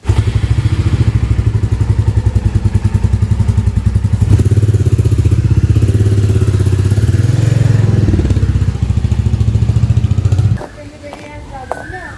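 A motorcycle on a road rumbles with a loud, steady engine drone and clattering wind buffeting for about ten seconds, then cuts to a quieter stretch with faint knocks.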